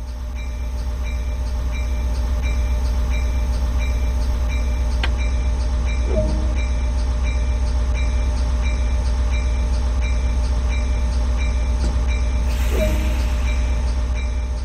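Loud, steady rumble of a moving train in Train Sim World 2020 on the Peninsula Corridor route, with a regular rhythmic clatter of wheels and a few brief squeals and clanks.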